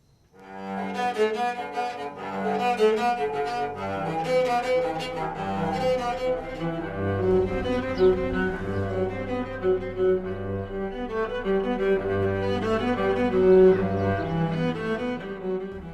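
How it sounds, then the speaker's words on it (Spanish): A bowed cello made from an oil can plays a flowing melody alone, warm and fairly loud, with sustained low notes under the tune. "Este cello está hecho de una lata de aceite"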